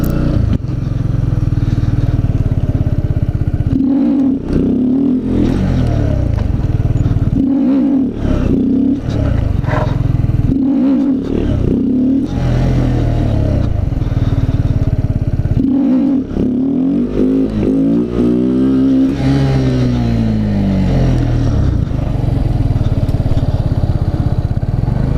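A Honda Z125 motorcycle engine revs repeatedly during wheelie practice, loud and close, with a steady drone broken by several rising throttle bursts and a long sweeping rev near the end.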